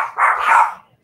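A dog barks once in a single short, fairly close and loud yelp-like bark, alone with no talk.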